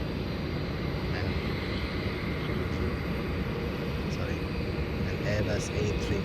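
Airbus A350 airliner arriving from Shanghai on landing approach, a steady broad roar of jet engines holding at constant loudness throughout, with faint higher whine above the rumble.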